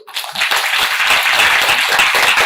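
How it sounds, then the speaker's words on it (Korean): Audience at a church summer youth retreat's evening service bursts into applause after a brief pause, a dense, close burst of clapping that holds steady for a couple of seconds. "박수!"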